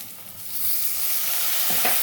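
Water poured into a pan of frying spice masala with ginger paste and chili powder sets off a loud, close, rising sizzle that holds steady, with stirring scrapes near the end.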